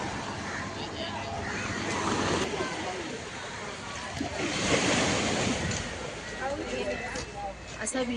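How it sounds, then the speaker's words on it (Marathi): Sea waves wash steadily onto a calm beach with a broad rushing surge and some wind, heard under people talking. "असा अथांग समुद्र"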